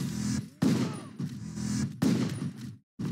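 Handgun gunfire in the action game Total Overdose: a few sharp, close shots in quick succession with echoing tails, and a short silence near the end.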